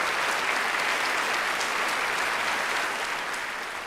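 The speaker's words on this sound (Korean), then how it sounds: "다 함께 한번 큰 박수로 오늘 이 소중한 일요 시간 함께 하면서 오늘 말씀 서두를 열까 합니다" A seated audience at a book concert in Ganghwa applauds together, a dense, steady wash of clapping that continues without a break and slowly tapers toward the end.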